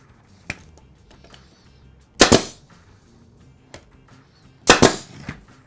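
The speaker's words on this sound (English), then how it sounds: "This one is a pin gun. And it shoots on things." Pin nail gun firing into the sides of a wooden box: two loud sharp snapping shots a couple of seconds apart, with faint clicks and handling noise between them.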